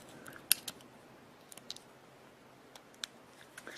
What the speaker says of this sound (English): If I can get the card out of here, you can see it's a 2 gig card.